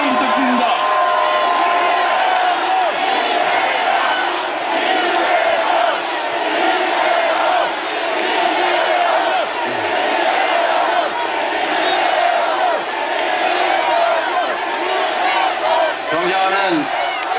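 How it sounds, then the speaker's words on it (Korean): Large crowd at a political protest rally cheering, whooping and applauding loudly for a party leader's speech, a dense roar of shouts and clapping sustained throughout with voices calling out over it. "여러분 뜨거운 박수와 함성 부탁드립니다."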